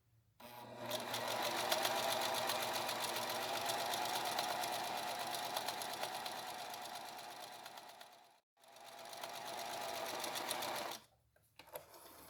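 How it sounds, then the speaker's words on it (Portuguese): A sewing machine runs steadily while outlining a pair of small doll arms in fabric, with a brief pause near the end before stitching resumes for a moment. "mesmo costurando devagar, eu já fiz contornos dos dois bracinhos"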